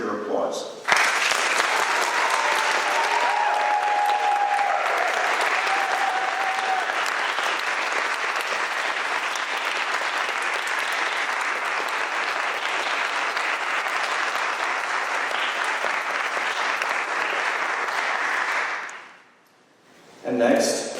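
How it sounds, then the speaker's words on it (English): Sustained audience applause fills an Eagle Scout court of honor, steady and close for about eighteen seconds before fading out, after which a voice begins speaking. "invite you to greet her with your applause"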